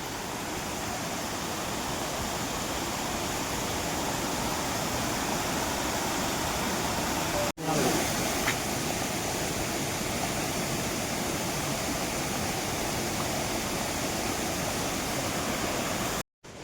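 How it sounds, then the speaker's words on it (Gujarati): Rushing mountain stream on the Kedarnath trek in the Himalayas, with a loud, dense and continuous roar of water heard close by and without pause. "અને પાણીનો અવાજ આવે છે બહુ, તમને સંભળાતો હોય છે."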